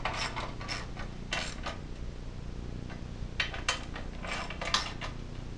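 Clicks from a tool tightening the oil fill tube on a Tecumseh LV195EA / LEV120 small engine: irregular bursts of close mechanical ratcheting with quiet pauses between them.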